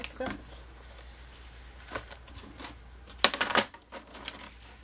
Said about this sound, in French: Alors, je vais couper ce 20 cm.